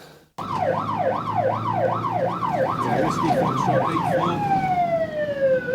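A wailing siren sweeps up and down rapidly and loudly, then shifts to a steadier, higher wail near the end, with traffic rumble underneath.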